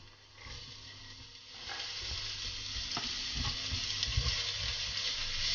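Onions frying in hot oil in a pot for mussels marinière, a steady broadband sizzle that swells after the first couple of seconds, with a few soft stirring knocks, close and without talk.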